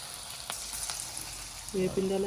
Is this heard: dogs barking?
no